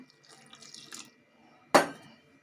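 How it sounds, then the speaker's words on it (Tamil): Water is poured into onion bonda batter made with rice flour. Soft liquid trickles give way to one sudden close splash, then quiet. "இப்போ இதுக்கு தேவையான கொஞ்சம் தண்ணி விட்டுக்கலாங்க"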